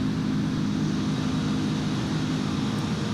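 Airbus A330 airliner engines in the X-Plane 11 flight simulator produce a steady, dense, broadband jet roar with a low hum, continuous and unchanging, with no talking.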